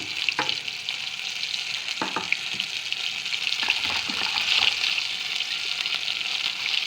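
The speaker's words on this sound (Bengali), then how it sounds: "আর বড়া ভাজছি" Bottle gourd stem fritters in gram flour and rice flour batter frying in hot oil, a steady loud sizzle with occasional sharp pops and crackles, close up and continuous with no talk.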